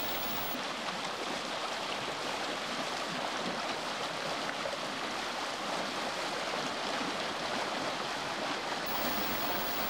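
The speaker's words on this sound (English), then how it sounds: "This one is flowing with tremendous force through the desert." A powerful desert spring near Jericho rushes steadily with a dense, even roar of flowing water, constant and unbroken throughout.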